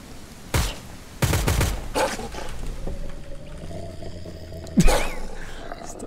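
Sniper rifle shots in a survival shooter game, several sharp loud cracks with a quick burst early on and another strong shot near the end, separated by quieter ambient game noise.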